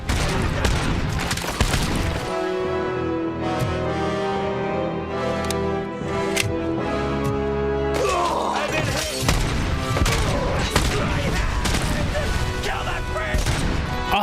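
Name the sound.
grenade launcher explosions and gunfire, RoboCop Rogue City video game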